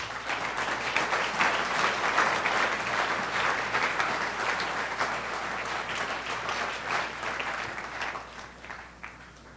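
Church congregation applauding together in a dense, sustained wash of clapping filling a large room. It stays loud for several seconds, then thins and fades toward the end.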